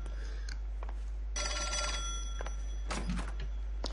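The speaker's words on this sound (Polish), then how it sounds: "przed nami dzwoniący telefon" An old-fashioned telephone rings in the video game L.A. Noire, with two bright, jangling bursts of bell ringing separated by a quiet gap over a low steady hum.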